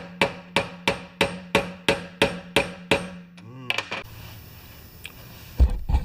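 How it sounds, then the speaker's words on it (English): A flexed pin is tapped into a fishing reel under repair: about nine sharp, evenly spaced metallic taps ring out close by, then a brief scrape and quieter handling with a couple of light knocks. "I'm going to just flex it a little bit more and see if I can tap it"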